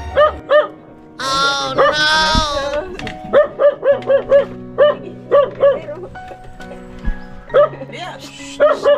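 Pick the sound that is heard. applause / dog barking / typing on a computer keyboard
dog barking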